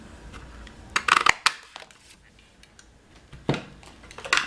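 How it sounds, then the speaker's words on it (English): A 2 1/4-inch circle punch bites through Petal Pink cardstock in a couple of sharp crunching snaps, close and crisp, with lighter handling clatter of paper and the punch in between. "Then we're going to take the 2 1/4-inch circle punch with the Petal Pink."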